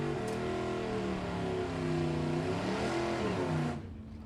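Stefan Mraz's 2014 Camaro drag car runs loud and steady at a drag strip, its engine droning with rising and falling pitch before the sound cuts off sharply near the end.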